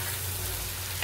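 Chicken pieces already fried lightly are sizzling in masala in a pan over a medium gas flame, giving a steady, close hiss with faint stirring and no voices.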